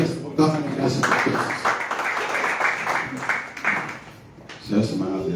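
Congregation applauding at an Indonesian church service for marginalized people and street children, a broad wash of clapping lasting several seconds, with voices and speech mixed in at the start and near the end.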